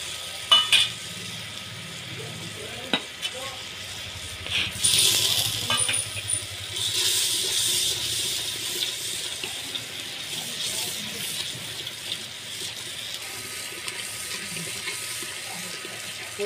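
Masala water from a spice paste is poured into a handi of mutton, giving a steady, fairly quiet trickle and splash that runs on with small clinks and no talk.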